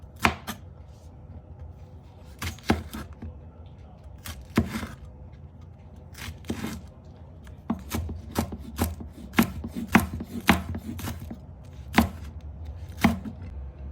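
Knife chopping okra on a cutting board for okra soup with quail meat, sharp irregular knocks repeating steadily up close with no talking.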